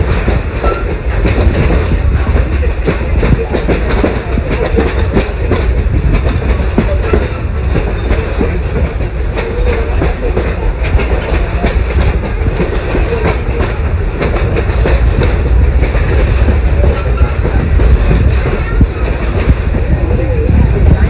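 Constant loud rumble and rhythmic clickety-clack from inside a moving train running along a riverside, a steady roar of wheels on rails throughout with occasional voices underneath.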